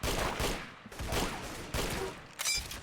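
Rapid bursts of gunfire in the Roblox-style shooter Arsenal, several dense volleys of close shots separated by short gaps, with no voices.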